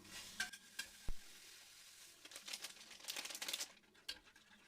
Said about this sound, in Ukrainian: Спочатку желе розчиняємо у одній склянці гарячої кип'яченої води